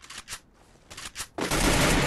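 Gunfire in the battle-royale game Free Fire: a few sharp separate shots, then a loud dense burst of rapid automatic fire that drowns everything near the end.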